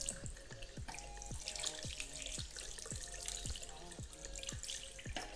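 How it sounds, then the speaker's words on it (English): Hands washed under a running bathroom tap, a continuous close splash and trickle of water with repeated soft drips and plops, no talking. "then I'm just gonna wash my hands before flossing."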